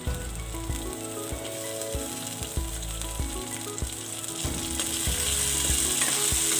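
Cumin seeds sizzle in a little oil in a pan while a ratcheting, clicking mechanical noise repeats on a regular beat underneath, and the frying grows a bit louder toward the end.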